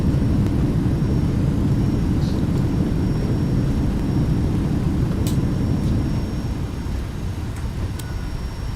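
Sustained broadband roar of a FlightFactor Boeing 757 freighter's thrust reversers after landing at Ontario in X-Plane 11, a loud, steady rumble filling the whole stretch and easing slightly near the end.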